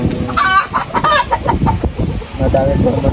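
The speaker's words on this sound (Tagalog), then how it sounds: "Medyo maingay nga lang dito yung mga manokan. Pag sabay-sabay po silang nagtilao." Loud, busy clucking and calling from many chickens at once, a continuous overlapping din with occasional rooster-like cries standing out nearby.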